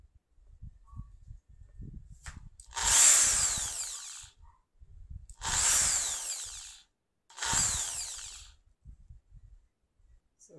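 A Lotus electric drill whirs in three short bursts of a couple of seconds each, loud and close, separated by quiet pauses with faint handling noise.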